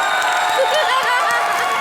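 A studio audience at a live television comedy show bursts into loud, dense applause with cheering and whoops, a continuous roar of clapping and crowd noise with voices mixed in.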